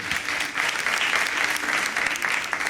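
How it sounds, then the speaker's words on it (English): An audience at an awards ceremony in Ghana honouring changemakers breaks into loud, sustained applause, a thick continuous patter of many hands. "Shall we do another big round of applause for him?"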